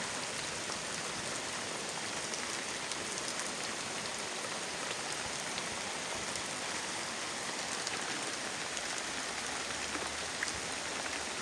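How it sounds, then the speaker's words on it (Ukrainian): Heavy rain falling steadily outdoors near a vegetable garden, a dense, even hiss of drops with no pauses or voices. "Пустився добрий дощ."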